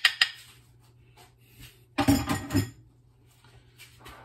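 A utensil scrapes and clinks against a saucepan as sugar is stirred to caramelize, with a sharp clatter at the start and a busier run of metallic scraping midway, close and otherwise quiet.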